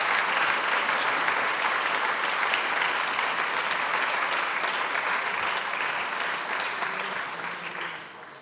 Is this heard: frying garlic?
no